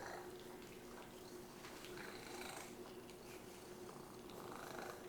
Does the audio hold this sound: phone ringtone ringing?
no